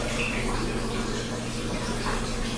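A water tap runs indoors in a home with a loud, steady rushing hiss that stays even throughout, with no talking.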